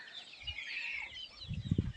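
Hens cluck low and close while high, thin chick peeps chatter steadily above them, with a few louder clucks near the end.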